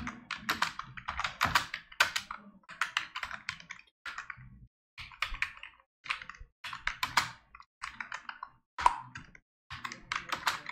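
Fingers type code on a computer keyboard in VS Code, quick clustered clicks arriving in bursts with short pauses between words, close and fairly quiet with no talking.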